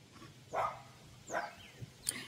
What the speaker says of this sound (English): I hope you guys can hear me over her barking.